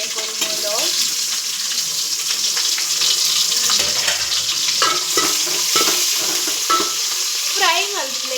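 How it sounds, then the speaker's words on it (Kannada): Red onions sizzle steadily in hot oil in a pan with star anise, cloves and cinnamon for egg masala, a constant loud fry with occasional stirring scrapes and brief voice bits. "ಗೋಲ್ಡನ್ ಬ್ರೌನ್ ನಮ್ಗೆ ಫ್ರೈ ಮಾಡ್ತೀವಿ."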